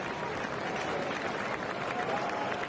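A racecourse crowd applauds after a horse race, a dense, steady wash of clapping and cheering heard from a distance, with faint voices mixed in.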